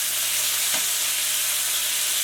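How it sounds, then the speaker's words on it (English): Hamburger sliders sear in a hot pan, giving a steady, dense sizzle that stays close and constant, with a faint brief tap near the start. "So we got a nice sear on the burgers, those sliders as they were."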